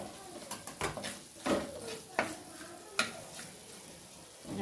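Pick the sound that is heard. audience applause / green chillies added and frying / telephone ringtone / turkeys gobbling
green chillies added and frying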